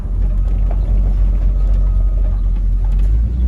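A bagged 1960 Eureka Cadillac hearse's engine rumbles steadily as it rolls slowly in close by, a low, even drone with no talking.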